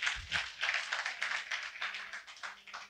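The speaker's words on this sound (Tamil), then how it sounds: "இந்த சகோதரிக்கு கைத்தட்டு" A church congregation at a Sunday service claps steadily for a girl, a continuous patter of many hands close by, with no talk over it.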